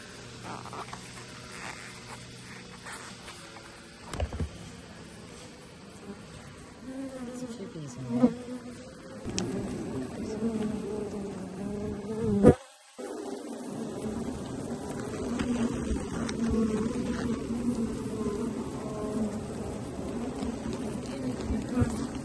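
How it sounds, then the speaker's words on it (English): Bees swarm around the top of a hive at a stone house in Portugal, a steady close buzzing that runs throughout, with brief knocks and a short dropout midway before the drone resumes. "there's a lot of bees at the top of the hive"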